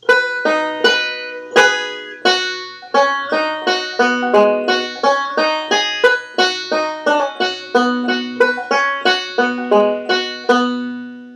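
Close solo five-string banjo playing the second phrase of a bluegrass tune, opening with a lick and moving through fast, evenly picked rolls and twangy sustained notes, with no voices.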